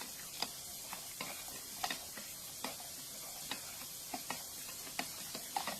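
Beef bouillon being stirred into spaghetti sauce in a pot: a steady series of soft, regular clicks and scrapes from the spoon, close and fairly quiet, over a faint background hiss.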